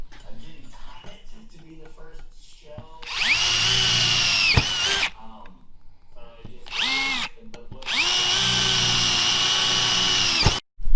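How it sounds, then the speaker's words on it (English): A power drill bores holes through ute sheet metal in two long, loud, whining bursts, with talk and workshop clatter heard between them. "So we obviously just drilled these couple of holes through here."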